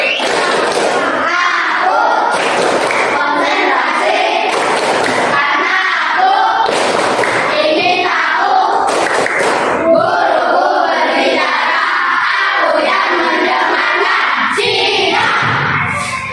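Classroom of students doing a rhythmic counting clap routine, voices chanting together in bursts punctuated by sharp group claps, loud and close, ending in a final burst of claps.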